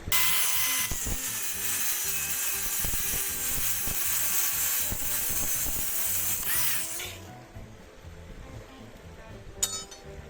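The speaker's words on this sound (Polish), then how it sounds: "szlifierka na magnesie, dobra rzecz" An angle grinder whines steadily while cutting steel scrap, with clinks and knocks underneath, then winds down and stops, leaving faint clatter.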